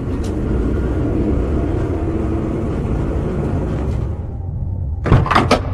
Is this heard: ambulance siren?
no